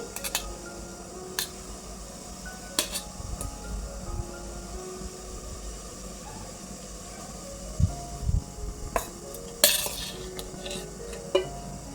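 A spoon stirs castor oil paste into hot water in a bowl, with sparse metallic clinks and scrapes against the dish, quiet and close, a few sharper taps near the end.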